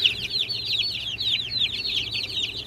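Chicks cheep and peep continuously in a brooder box, a steady chorus of high rapid chirps from several birds, including a Lavender Orpington among mixed breeds, with a faint low hum beneath.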